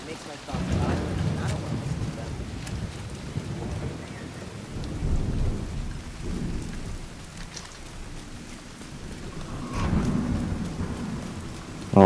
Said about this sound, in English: Oh, it's heavy rain.